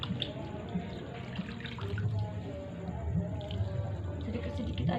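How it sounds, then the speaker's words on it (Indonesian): Water is poured over freshly planted plants outdoors, a steady close splashing and trickling that runs throughout, with a person talking over it. "setelah sudah ada airnya, kita siram tanaman"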